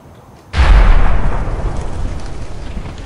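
A loud demolition blast from the Sprengmeister Simulator video game erupts suddenly after a moment of quiet, a deep booming explosion that rumbles and slowly fades over a few seconds.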